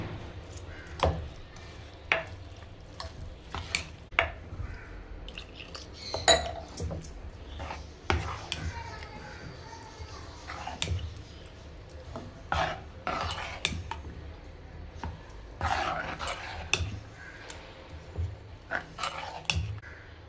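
Dosa batter being mixed with carrot and cabbage in a bowl, a steady run of soft scraping and clinking of a spoon against the vessel, close and fairly quiet, with no talking.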